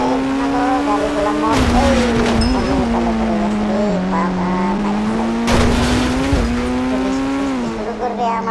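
Motorbikes and cars race in a video game, a steady high engine whine holding pitch with shifts and revving surges, loud and continuous, with tire squeal bursts and a voice talking over it.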